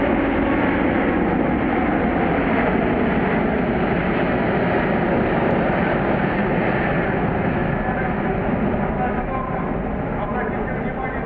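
An Airbus A380 airliner passes over the MAKS 2013 airshow with a loud, steady engine roar that fills the whole span, while a commentator speaks over the public address.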